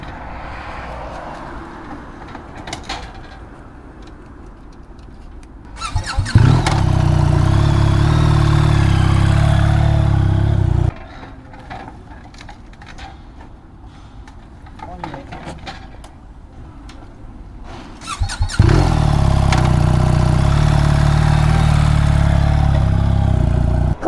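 A KTM motorcycle engine under riding load, a steady loud droning rumble that comes in two long bursts, with quieter idle-like stretches between them.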